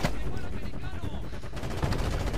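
Rapid bursts of gunfire rattle continuously amid loud, busy battle noise in Ghost Recon Advanced Warfighter 2, with voices shouting in Spanish over the shooting.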